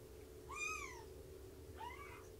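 Two thin, high kitten meows, the first longer and the second softer, over a steady low hum.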